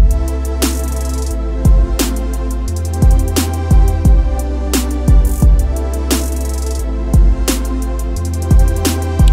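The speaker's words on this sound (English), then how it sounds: "Then I added a little trap style rolling hi-hat pattern." A UK happy hardcore beat made in FL Studio with fast rolling trap-style hi-hats that ripple and shift in pitch over deep booming bass and punchy kicks, playing steadily without any voices.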